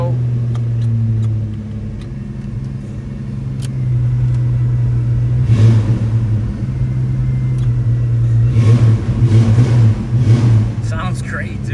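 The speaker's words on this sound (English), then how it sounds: "Sounds great too. Little V6 under the hood, just an awesome truck." A 1991 Chevrolet S-10 pickup's V6 runs through an aftermarket exhaust, a loud close low rumble that swells with a couple of revs while someone talks over it.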